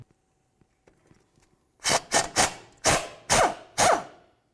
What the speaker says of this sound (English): We'll use a 10mm to remove it from the knuckle.